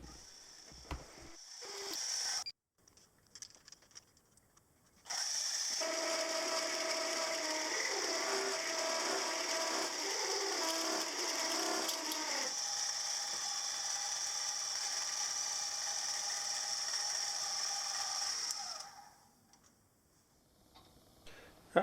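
A milling machine, its cutter turning a little too fast, cuts a metal base casting with a steady, harsh, chattering mechanical whir that lasts about fourteen seconds, framed by quieter clicks and pauses at the start and end.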